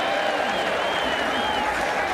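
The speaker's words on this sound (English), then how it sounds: "And you hear the applause here" A college football stadium crowd gives a broad, continuous roar of applause and cheering that stays steady throughout, with a voice faintly present underneath.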